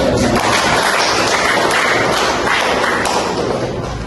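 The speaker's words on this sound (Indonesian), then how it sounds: "Kita tepuk tangan untuk" A classroom audience claps together in a dense, steady burst of applause, loud and close, with no pauses before it trails off slightly at the end.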